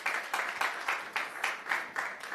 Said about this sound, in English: Please clap hands for him as he comes to the front.